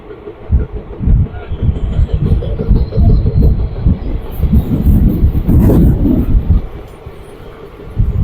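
Train cars rolling slowly past close by, a loud rumbling clatter of wheels on rails in uneven surges, with a brief high screech partway through.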